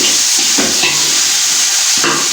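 Kabuli pulao masala is stirred into a pot with a loud spoon scraping against the bottom of the pan. Under it runs a constant hiss of sizzling oil, and a few rhythmic strokes stand out clearly.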